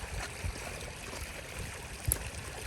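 Water swirled around in a gold pan while panning at a campsite, a quiet continuous wash with a soft slosh or two, close and low in level, no talking.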